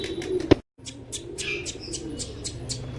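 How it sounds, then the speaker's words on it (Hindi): Pigeons of the Hare Kalu breed chirp and coo nearby. One sharp thump or wing flap comes early, followed by a brief drop-out, then a run of light repeated calls over a low background. "भाइयों 2 कबूतर और नीचे आ गए, हरे कालू की नस्ल से"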